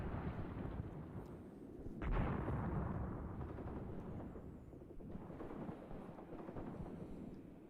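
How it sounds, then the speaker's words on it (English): Artillery barrage in the WWII tactical game Graviteam Tactics: Mius Front, with low, rumbling blasts in a continuous distant booming and one heavier impact about two seconds in, and no talk over it. "looks like we are getting some artillery down here at last"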